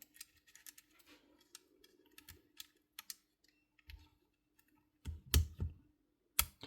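Carbon brushes and springs being fitted into a Makita BHP452 drill, small sparse plastic clicks and taps close up, ending in a few louder snaps, with no talking.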